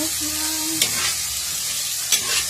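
Eggs frying in a pan with tomato and onion, giving a steady broadband sizzle throughout with a couple of brief scraping stirs and no talk over it.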